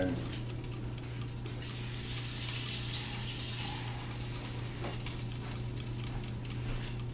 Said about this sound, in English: Now I'm going to put this in water